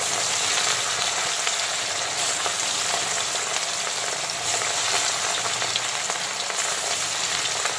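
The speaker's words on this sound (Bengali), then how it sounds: "এখন লবণ আর হলুদ মাখানো কাটাপোনা মাছগুলোকে তেলের মধ্যে দিয়ে দেব।" Cut rohu pieces coated in salt and turmeric fry in smoking-hot oil, giving a loud, dense, continuous sizzle that stays steady throughout with no voices.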